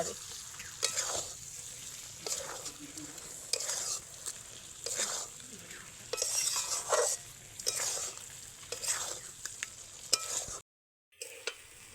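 Eggs are sautéed with spices in a pan, with steady sizzling and repeated scraping stirs coming in rhythmic bursts for several seconds before a short silence near the end.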